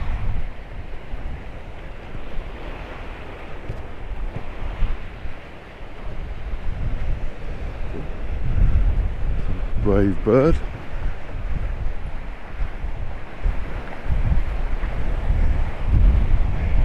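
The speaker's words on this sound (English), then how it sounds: "So the seas are quite choppy today" Choppy sea waves break against rocks under steady wind, a continuous loud rush with gusts, while someone speaks briefly partway through.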